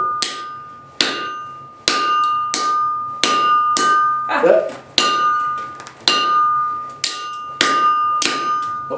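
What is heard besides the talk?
hammering hot steel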